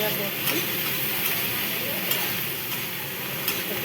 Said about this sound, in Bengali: একটু ভেজে নিচ্ছি, হালকা করে ভেজে নেবো